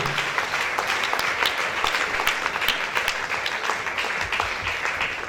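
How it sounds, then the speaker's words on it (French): A church congregation claps together at length, a dense, steady wash of applause at moderate volume with scattered sharper claps standing out. "Put your hands together."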